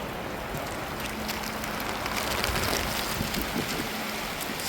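Heavy rain with wind in a village makes a dense, unbroken hiss and roar that holds steady throughout, with no voices.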